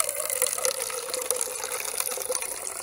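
Water from a ram pump pouring into a 32-ounce cup, a steady close gushing splash that stays even and continuous for a few seconds with no talking.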